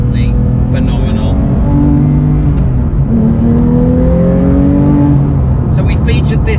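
A Porsche 992 GT3 Touring sports car engine drones and rises in pitch as it accelerates through the gears, loud and steady, with brief speech-like bursts near the end.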